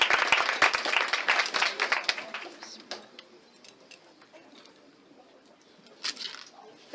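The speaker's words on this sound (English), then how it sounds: "a nice round of applause for these wonderful winners" An audience at a statewide art award presentation claps for the winners. The applause is dense and fairly loud at first, thins out into scattered claps after about two seconds, then a brief burst returns near the end.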